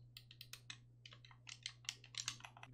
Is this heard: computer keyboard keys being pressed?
yes